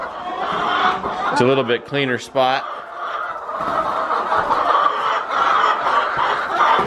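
Young pullet chickens on a family farm cluck and squawk in short bursts near the listener, amid a busy coop background, while a person talks over them.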